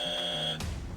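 Quiz show buzzer on a buzzer round, a single loud electronic tone about half a second long that cuts off sharply into room noise, heard alone without talk.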